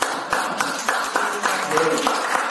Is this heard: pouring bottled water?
no